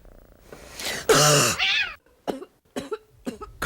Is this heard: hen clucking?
no